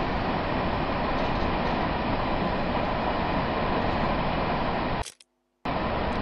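An M7 commuter train rumbles steadily on the Harlem Line in Train Sim World 2, a dense, continuous roar that cuts out abruptly for a brief gap near the end before resuming.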